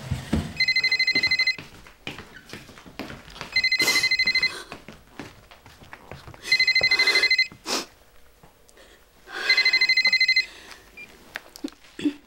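An old-style telephone bell rings loud and near in four long bursts, roughly every three seconds, with brief pauses and faint indoor movement between rings, in a Korean TV drama scene.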